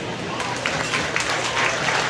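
Spectators at a county fair market hog show give a steady round of applause, moderately loud and continuous, with faint talk underneath.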